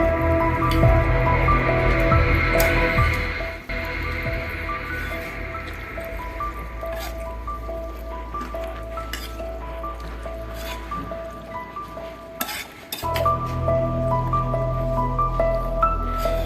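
Dal, rice and water are mixed in a pot for kootanchoru, with wet squelching and sloshing up close, a quieter stretch in the middle, then renewed slurping stirring near the end.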